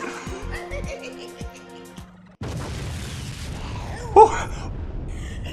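A laser beam fires in the Super Monkey Ball 2 game, a sudden loud boom with a rumbling burst that follows a brief musical passage and stays steady, with a sharp spike near the end.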